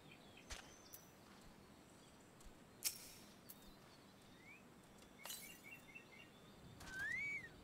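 Bird mount calls in Final Fantasy: faint chirps and whistled tweets scattered over a quiet background hiss, ending with a rising whistle.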